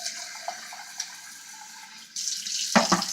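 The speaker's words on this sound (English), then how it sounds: "So I'm just going to add some water." Water pours from a tap into a pot of refried beans and rice, starting suddenly after a quiet stretch of faint kitchen noise, then rushing steadily and close for about a second.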